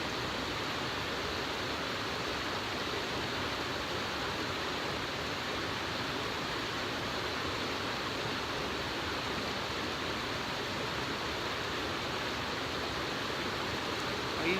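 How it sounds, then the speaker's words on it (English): Mountain creek running beside a trail bridge on Gregory Bald in April, a steady broadband rush of flowing water that stays constant and fairly close throughout, with no voices over it. "The creek is beautiful, man."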